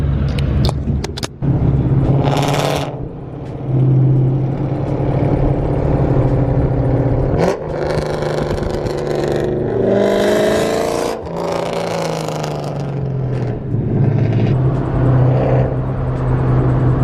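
A Ford Mustang pulls away with a loud, close engine that revs and rises in pitch through several surges and gear changes, with no talking.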